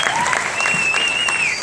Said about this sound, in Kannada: ದಯವಿಟ್ಟು ಜೋರಾದ ಚಪ್ಪಾಳೆ ಬರಲಿ.